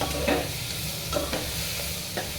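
Onion, tomato and green chili sauté in a pan with a constant soft sizzle, broken by several sharp scrapes and taps of a spoon stirring against the pan.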